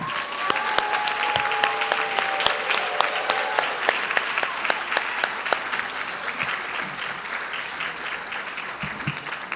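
Banquet guests applaud retiring employees with a long round of clapping, individual sharp claps standing out from the crowd, while a voice speaks briefly over it at the start.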